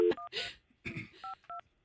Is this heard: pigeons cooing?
no